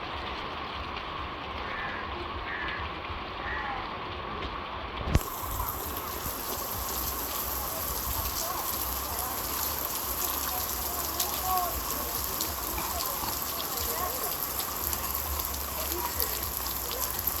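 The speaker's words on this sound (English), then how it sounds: "It's raining hard." Heavy rain falling at Diani Beach on the Indian Ocean, a steady dense hiss that stays constant throughout and thickens abruptly partway through, with a brief knock near the start.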